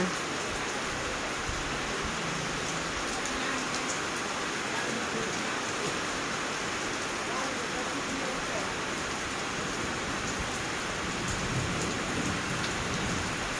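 Steady, heavy rain pours without pause, a dense hiss that stays constant from start to finish, falling where an elephant is kept.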